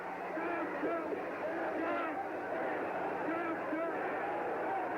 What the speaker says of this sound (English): And the crowd is berserk with excitement.